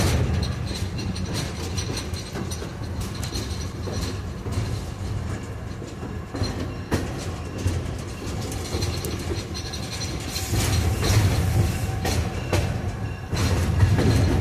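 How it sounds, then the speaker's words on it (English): A moving train on the Missionary Ridge Local rumbles steadily from inside a car, with rhythmic wheel clacks, rattling and occasional squeals, loud and continuous. "I'm in a moving train"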